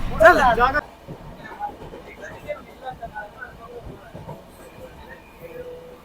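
A brief loud burst, then the steady low rumble and rattle of a moving train carriage, with faint voices in the background.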